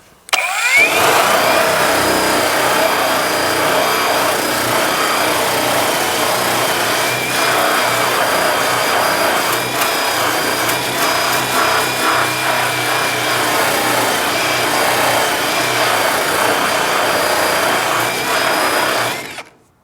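A Seesii surface conditioning tool with an 80-grit drum sands steel down to bare metal, giving a loud, steady motor whine with a gritty abrasive rasp that runs without a break for about eighteen seconds.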